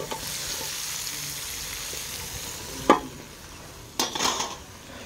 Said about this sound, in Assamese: তিতা কেৰেলা ভাজি